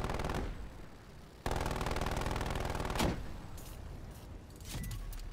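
AK rifle gunfire in Call of Duty Cold War, rapid automatic bursts of shots, fairly close, broken by a short gap and followed by scattered single cracks, with no talk.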